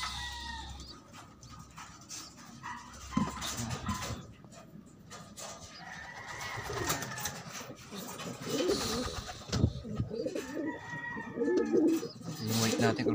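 Pigeons, including a white one, cooing repeatedly in soft, throaty bursts at close range, with rustling and scattered background noise between calls.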